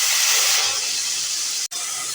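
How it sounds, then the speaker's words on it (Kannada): Chopped dill leaves with crushed green chili and garlic sizzle in hot oil for a North Karnataka dish, a loud, steady close-up hiss that breaks off briefly near the end. "ಎಣ್ಣೆಯಲ್ಲಿ ಚೆನ್ನಾಗಿ ಬಾಡಿಸ್ಕೋತಾ ಇದ್ದೀನಿ."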